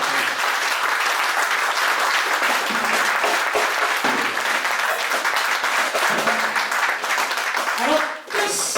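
A church congregation at a Sunday worship service applauding continuously, a dense sustained wash of clapping with voices and cheers mixed in, easing off briefly near the end.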